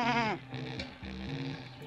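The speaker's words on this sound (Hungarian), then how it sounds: "Birka!" A single sheep in the video game Jazzpunk gives a short wavering bleat, clear and close, followed by a lower, softer bleat, with no talk over it.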